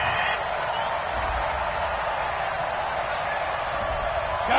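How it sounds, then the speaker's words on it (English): Stadium crowd in Madden 20 booing after a penalty flag on third down, a dense, loud, sustained roar of many voices with no individual sounds standing out. "Well, the crowd doesn't like that."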